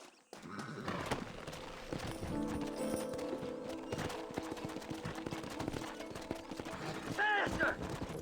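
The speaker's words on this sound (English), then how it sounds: "Horses are over here!" Horses from the Western video game Red Dead Redemption gallop with steady, rapid hoof clip-clops and let out a loud whinny near the end, over a busy game soundtrack with voices and some gunfire.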